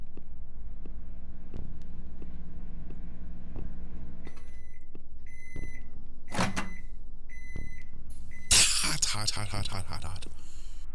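Microwave oven heating cup ramen, a steady low electric hum running throughout, then several short high beeps toward the end along with some clattering, all moderately loud, with no speech.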